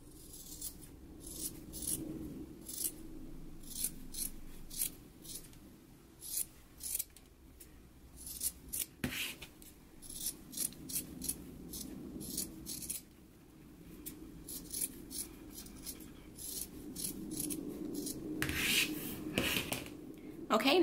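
Scissors trim sewn flaps on a pair of pants, snipping in quick repeated bursts of crisp cuts, close and fairly quiet, with soft fabric rustling between snips.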